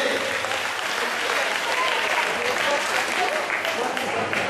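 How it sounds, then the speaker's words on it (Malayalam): An audience claps continuously at a children's cultural programme, dense steady applause filling the hall at an even level throughout. "ഒരു ചെറിയ ഗിഫ്റ്റ് കൈയടിച്ച് പ്രോത്സാഹിപ്പിച്ചേ"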